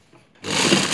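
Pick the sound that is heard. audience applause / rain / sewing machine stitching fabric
sewing machine stitching fabric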